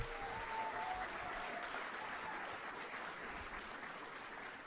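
Audience applause at a lecture-series event at Crystal Bridges, a dense, steady clapping that holds for several seconds and fades only slightly toward the end.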